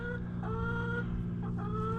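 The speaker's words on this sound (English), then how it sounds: "my buddies the chickens are talking to us" Nearby chickens cluck in a few short, soft calls over a steady low background hum, with no talking.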